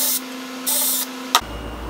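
Power tool loosening a bolt on a motorcycle brake rotor in a workshop, two short loud whirring bursts over a steady hum, then a sharp metallic knock.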